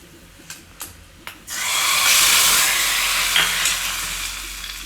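Asafoetida and dried red chillies dropped into hot oil to temper dal burst into a loud, steady sizzle after a few light taps, continuing close up and then easing slightly.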